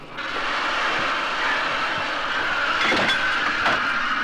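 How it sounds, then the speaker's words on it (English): A Festiniog Railway double Fairlie steam engine arrives at a platform and couples to its train, heard as a steady loud rumbling hiss with a few metallic clanks toward the end. "One of the double Fairlie engines arrives and couples up to its train."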